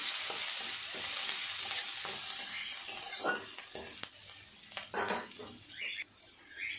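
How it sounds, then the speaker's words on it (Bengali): Chopped onion sizzles in hot oil in a pan, with stirring scrapes and light utensil clinks over a fairly quiet, steady frying hiss; the sizzle thins toward the end. "দিয়ে দেব পেঁয়াজ কুচি। অল্প পেঁয়াজ কুচি দিলাম।"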